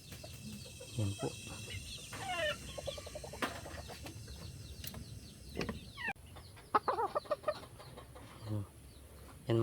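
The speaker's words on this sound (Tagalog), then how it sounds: "ito ang aking inahin na nabuyo" A broody hen gives soft, intermittent clucks at close range in a backyard setting, mixed with other bird calls and a few sharper knocks and scrapes.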